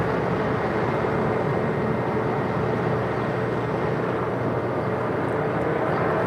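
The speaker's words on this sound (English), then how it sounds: "This is a 2-year-old 737 MAX 9 departing to Fort Myers, United Airlines Flight 2025." A two-year-old Boeing 737 MAX 9 airliner, United Airlines flight departing LAX, heard as a steady broad roar of jet engines at moderate distance, with no talk.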